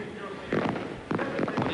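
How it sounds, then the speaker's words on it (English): Fireworks bursting over a Newcastle ground ahead of a 1997 ARL City vs Country rugby league match, with two or three loud broadband booms landing over steady crowd noise. "The fireworks here in Newcastle for the match."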